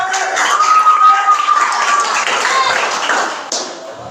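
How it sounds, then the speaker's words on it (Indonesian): An audience of Islamic boarding school students claps hands loudly and unevenly, mixed with crowd noise and a few voices calling out, the clapping tapering slightly toward the end. "Tepuk tangan."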